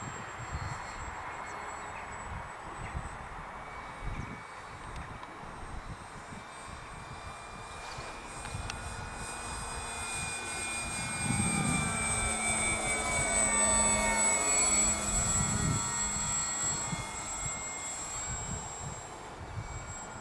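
A radio-controlled Super Cub model airplane flies overhead, its small engine whine rising and swelling as it passes nearer, then easing off against a breezy outdoor background.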